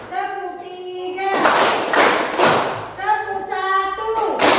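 Children in a classroom clap in a rhythmic counted pattern, strong hand claps and thumps in bursts, interleaved with a woman's sing-song chanting voice up close.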